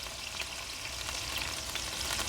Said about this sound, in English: So I'm just moving the other one around in some of that beef tallow to help it along a little bit.